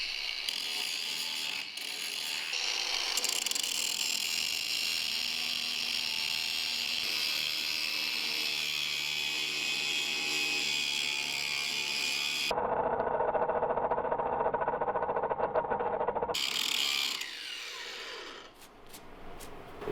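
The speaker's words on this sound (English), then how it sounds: "I'm going to grind off the top of the screws" Grinder cutting the tops off screws during a camper trailer teardown, a loud, steady, close grinding whine that shifts tone midway and tapers off near the end, with no talking.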